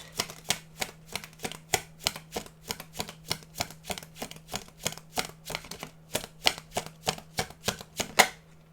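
Tarot cards shuffled by hand in a rapid, regular run of crisp riffling flicks, close and fairly loud, with no voice over them.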